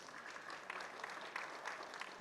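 An audience at a Telugu film event claps in a faint, distant wash of applause that keeps going steadily, with no talk over it.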